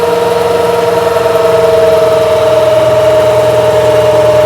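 The diesel engine of a turbocharged New Holland TL-90 tractor runs under load with its fuel turned up, a loud, steady, close drone with a strong whining tone and a low rumbling throb throughout.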